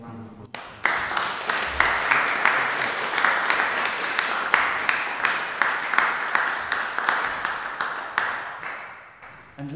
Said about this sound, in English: so we can have a round of applause